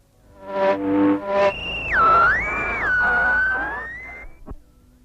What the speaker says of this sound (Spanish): 2 horas después de haberlo recibido, emitió un silbido extraño.